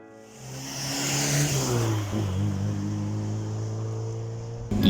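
A 1960s OSCA 1600 Spider with a twin-cam engine and Pininfarina body revs up loudly and close by. The engine note climbs, then settles into a steady, throaty drone.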